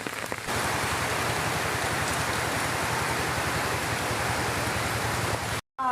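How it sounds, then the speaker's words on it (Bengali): Heavy monsoon rain falling in a village: a dense, steady, loud hiss of rain on surfaces, unbroken for several seconds before cutting off briefly at the end. "আমরা এখন ব্যাক ক্যামেরা দিয়ে দেখছি কী অবস্থা বৃষ্টির।"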